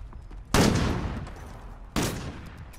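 Two loud, close gunshots in the video game Call of Duty Modern Warfare, each a sharp blast with a trailing decay, spaced about a second and a half apart with no talk.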